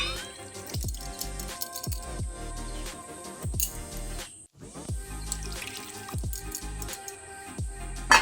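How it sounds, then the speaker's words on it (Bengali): Water pours into a pot of lentil dal being cooked with salt. The stream splashes and gurgles steadily at close range, with small drips and bubbling sounds. "এবারে দিয়ে দিচ্ছি জল।"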